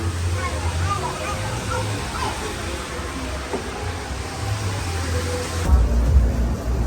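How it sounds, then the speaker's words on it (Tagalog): Heavy rain pours down in a dense, steady hiss in Ximen, Taipei, that stays constant throughout and swells a little louder near the end. "ngayon yung talagang pinakang buhos niya. Pinakang buhos ng ulan."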